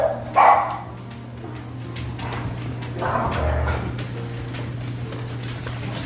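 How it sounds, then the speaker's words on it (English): A dog barks a couple of times in short, muffled bursts, slightly distant, during Thanksgiving preparations outdoors, with a steady low hum running underneath. "somebody must be here because the dog's going crazy."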